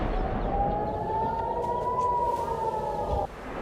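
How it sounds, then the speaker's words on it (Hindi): A warning siren sounds in Tel Aviv during a rocket attack, one steady wailing tone slowly rising in pitch and held for about three seconds before cutting off abruptly, loud and alone. "तेल अवीव के साथ होलोन, रिशोन, लीजियन के इलाकों में वार्निंग सायरन बज उठे"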